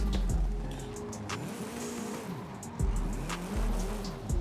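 A Hoonigan RS200 Evolution drift build races in Forza Horizon 5, its engine rising and falling through repeated rev sweeps and gear changes, with tire squeal and skidding in between.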